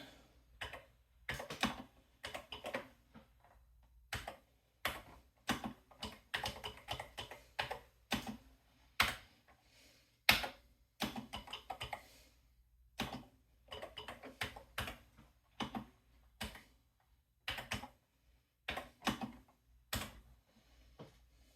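Assembly code being typed on an Atari 8-bit computer keyboard, with irregular runs of sharp key clacks and short pauses, close and fairly quiet, with no talking.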